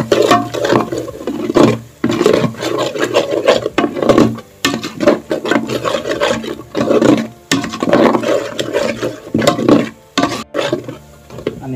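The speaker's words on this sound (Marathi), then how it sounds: "आता या चांगलं जरा परत एकदा ढवळून घेते" Chicken masala gravy stirred in a cooking pot, with repeated scraping and rubbing strokes of a spoon against the pot in irregular bursts, close and fairly loud, and no talking.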